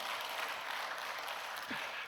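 Church congregation applauding during a Sunday service, a dense continuous wash of many hands clapping together, steady and fairly loud for a couple of seconds.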